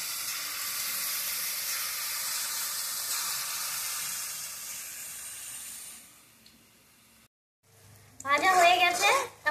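Pakora batter dropped into hot oil gives a steady, broad frying hiss with a louder burst of bubbling sizzle near the end.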